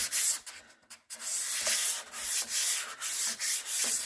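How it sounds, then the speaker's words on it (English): Light hand sanding of chalk-painted vintage furniture with a fine 220 grit sanding sponge: quick, close, rhythmic scratchy rubbing strokes, with one brief pause early on. "I'm going to go ahead and take my Dixie Belle sanding sponge. These are fine grit, 220 grit sanding sponges"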